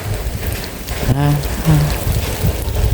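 Rain falls outdoors in a steady, close hiss that fills the whole stretch, with a brief tonal call rising over it midway.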